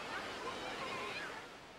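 Ocean waves at Boucan-Canot beach on Réunion, a constant broad roar of surf with steady washing and no distinct breaks.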